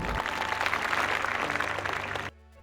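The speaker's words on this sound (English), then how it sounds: "and everyone applauds" A crowd applauds in a scene from Neil Breen's film Fateful Findings. Dense, steady clapping fills the room and then cuts off abruptly near the end.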